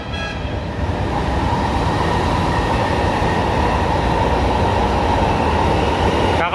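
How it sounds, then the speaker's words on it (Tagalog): A Manila MRT Line 3 train runs on its rails, a loud, continuous rumbling roar with a steady high whine over the wheel noise, close by and with no voices. "Tulad nitong MRT Line 3 ang bilis na ng takbo"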